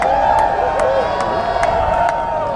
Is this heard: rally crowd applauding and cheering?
yes